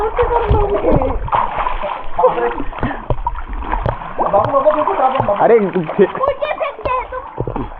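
Water splashes and sloshes repeatedly in an outdoor village swimming pool while excited voices talk and shout throughout.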